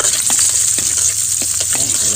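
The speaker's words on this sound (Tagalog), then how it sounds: "Ito, mag-gisa na tayo ng bawang." Garlic and ginger sautéing in a pan for a ginataan dish, with a steady close hiss of oil and occasional scraping stirs, no voice over it.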